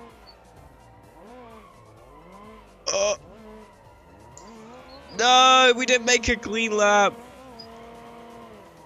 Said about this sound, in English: This guy's all-wheel drive drifting here.